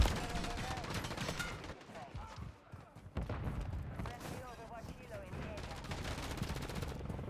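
Rapid gunfire and thuds from a Call of Duty firefight fill the mix, with a stun grenade thrown amid loud bursts, a brief lull near the middle, then more dense shooting under faint voices.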